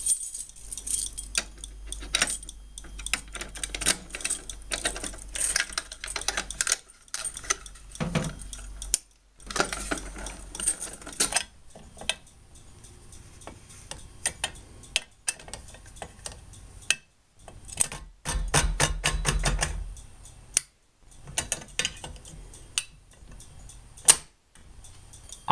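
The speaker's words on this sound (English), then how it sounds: "gotta go ahead and reset the pull stations" Fire alarm pull stations being reset by hand on a Potter PFC 4064 system: close metallic clicks, key jingles and rattling handling noises in irregular bursts over a low hum, with brief silent gaps.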